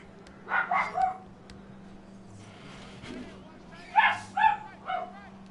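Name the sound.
dog barking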